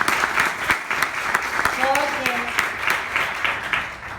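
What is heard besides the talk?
audience applause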